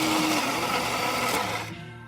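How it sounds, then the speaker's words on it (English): A Saeco espresso machine grinding coffee beans after a gasket tune-up gives a steady, loud whirring grind for most of the span, then cuts off and fades near the end. "Grinding the coffee up"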